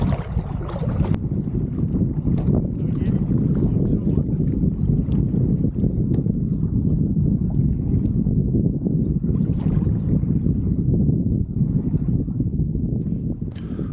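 Steady wind rushes over a boat cruising on Wonboyn Lake, with a dense, loud roar and buffeting that run throughout, blending with water and hull noise.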